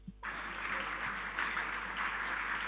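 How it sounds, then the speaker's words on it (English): An audience at a speaking event in Sokoto, Nigeria applauds Bishop Kukah after his speech, a steady wash of clapping that holds at moderate level throughout, with no talk over it. "Another round of applause for him, please."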